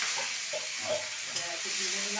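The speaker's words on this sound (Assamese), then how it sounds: "মছলাটো ভাজি ল'লোঁ।" Whole cumin and black mustard seeds frying in hot oil, giving a steady close-up sizzle with small crackles and pops throughout, no voices over it.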